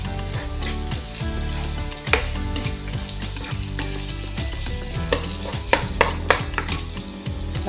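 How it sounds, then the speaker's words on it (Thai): Cooked rice and scrambled egg stir-fried over high heat in a pan, a loud continuous sizzle broken by the scrape and clatter of a spatula tossing the rice. "ป้านุชก็จะเอาข้าวลงไปคลุกเลยนะคะทุกคน ผัดให้อร่อยกันเน าะเร่งไฟเบอร์10นะคะ"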